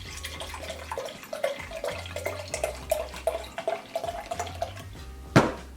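Wine is poured into a cup in a series of gurgling glugs and drips, close and fairly quiet, ending with a sharp clink.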